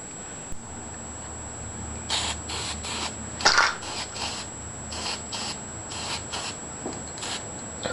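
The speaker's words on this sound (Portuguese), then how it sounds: "O gatilho do spray não precisa ser apertado até o final não." A spray paint can sprays a homemade steel angle square in several short hissing bursts of uneven length, separated by brief pauses in a quiet workshop, with no voices.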